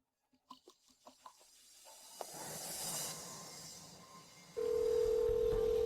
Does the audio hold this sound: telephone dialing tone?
yes